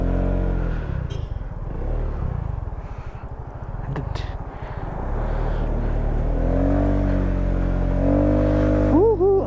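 A Rusi RFI 175 motorcycle climbing a hill toward Sonnenberg in Bukidnon, its close engine droning and labouring, then rising in pitch as it revs harder near the end.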